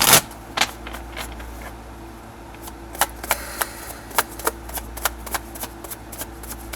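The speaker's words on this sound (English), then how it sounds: "they just told me to shuffle" Tarot cards being shuffled by hand up close, a quiet run of riffles and soft slaps followed by a series of sharp, evenly spaced card snaps, heard alone.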